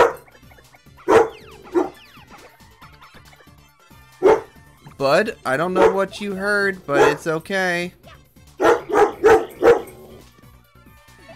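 An indoor dog lets out drawn-out, wavering howls mixed with short sharp barks and yips, loud and close, while someone talks over and between the calls.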